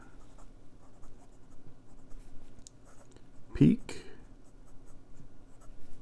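A Eureka PEEK fountain pen with a No. 6 Bock steel medium nib moves over Clairefontaine 90 gsm paper with a soft, close scratching that grows briefly louder, while a voice speaks softly over it.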